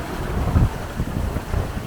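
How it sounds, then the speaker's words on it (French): A sailboat under way in about 18 knots of wind, leaving Gallipoli at 7 knots. Steady wind buffets the microphone in low rumbling gusts over a faint wash of water, with no voices. "18 nœuds de vent, on va à 7 nœuds et on quitte la belle ville de Gallipoli."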